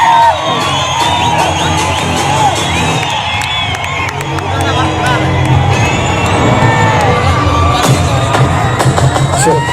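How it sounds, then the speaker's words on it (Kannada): Loud crowd cheering and whooping at a youth festival stage in Dharwad, with a dense, continuous roar of voices and shouts across the whole stretch and scattered sharp bursts, applause blended into the din. "ಜೋರಾದ ಚಪ್ಪಾಳೆ"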